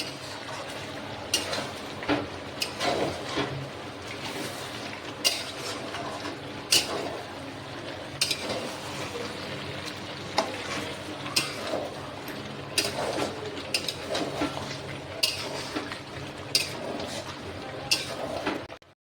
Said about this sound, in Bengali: আলুগুলো দিয়ে দেব হ্যাঁ, দিয়ে একটু নাড়িয়ে নেবো